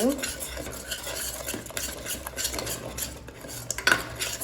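Spices being mixed in a hot pan for vegetable pulao, busy continuous spoon scraping and clattering against the pan over a light sizzle, close and fairly loud, with a sharper metallic clink near the end and no voices.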